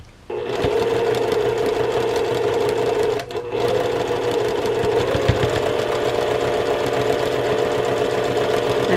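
A sewing machine runs steadily and close up while stitching a 1/4 inch seam on a quilt block, with one brief pause partway through.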